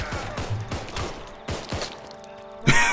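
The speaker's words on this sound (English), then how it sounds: "I'm going to start shooting." Repeated gunshots in a zombie-hunting video game, a string of sharp bursts spread unevenly across a few seconds with a louder blast at the end, heard alone.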